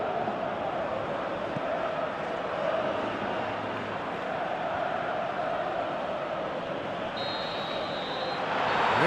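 Stadium crowd in the Pro Evolution Soccer 2018 football game makes a steady, broad roar that holds evenly throughout and swells slightly at the end, with no clear speech.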